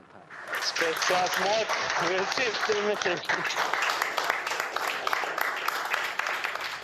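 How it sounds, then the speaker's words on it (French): Applause in a control room as a Mars probe separates from its launcher, a crowd clapping steadily with a few voices and cheers layered over it near the start. "des applaudissements ont retenti quand la sonde s'est séparée de son lanceur"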